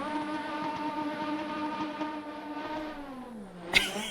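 A McLaren Honda V6 turbo Formula 1 engine holds a steady high-pitched drone, its tone sliding down near the end before a sharp burst of noise. The sound carries alone at moderate level.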